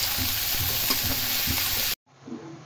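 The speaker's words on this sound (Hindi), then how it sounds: "अब इसको सुनहरा होने तक भूनेंगे" Steady, dense sizzling of onions and red chilies frying in hot oil, loud and close, then a sudden cut to a quieter continuation of the sizzle.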